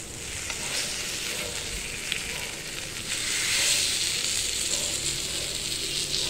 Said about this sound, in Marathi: मंद आचेवरती आपल्याला हे पीस फ्राय करून घ्यायचे मंडळी